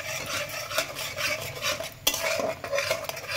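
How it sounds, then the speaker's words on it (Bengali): Spiced potol (pointed gourd) filling with chili powder, coriander and Kashmiri chili is stirred in a pan, a utensil scraping and clinking against the metal in steady strokes with a faint sizzle underneath, close and moderately loud, no talking. "নাড়াচাড়া করে নেব ভালো করে।"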